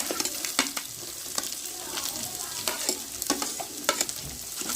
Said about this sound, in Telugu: ఈ ఆనియన్స్ కూడా బాగా ఫ్రై అవ్వాలి